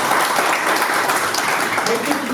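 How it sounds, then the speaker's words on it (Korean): Steady, dense applause from a crowd fills the whole moment, even and sustained without pause. "박수 한번 보내주시기 바랍니다"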